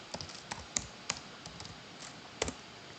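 Quick, light clicks of fingers typing on a computer keyboard while a spreadsheet field is renamed, an uneven run of close taps with a few sharper keystrokes, no speech.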